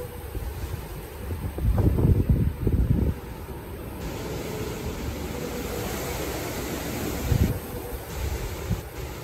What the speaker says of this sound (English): It's not raining though, it's just very windy.